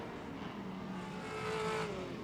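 Ultra4 off-road race car engine heard on a dirt track at night during the Crandon World Championship, a steady distant roar that swells slightly as it comes around a turn, with no talking.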